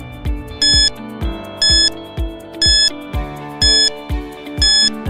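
A quiz countdown timer loops a bright, rhythmic pattern: deep thumping beats alternating with short high chiming bursts roughly every second, loud and steady with no voices.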